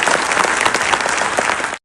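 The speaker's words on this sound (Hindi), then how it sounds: "तालियां" In an army auditorium in the New Cantt area, an audience gives a brief, loud burst of dense applause for Indian Army military bands after their concert, and the clapping cuts off abruptly.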